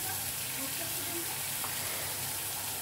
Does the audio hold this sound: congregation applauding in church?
no